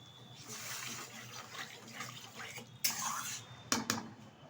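Water pours into a pan of cooking tomato chutney, a soft steady splashing with a couple of sharper metallic clinks near the end, quiet and close.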